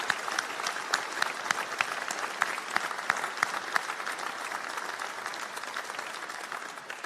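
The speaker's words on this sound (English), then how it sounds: "join me in a round of applause for the governing" A room full of people at a college graduation applauds steadily, a dense patter of clapping that holds at an even level throughout, somewhat distant.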